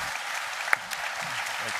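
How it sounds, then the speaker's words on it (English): Audience applause at a Daikin VRV Summit plenary session, steady and moderately loud, honouring four speakers, with scattered louder claps and a brief shout standing out. "Let's give a big applause to these 4 speakers who've given their time and their knowledge."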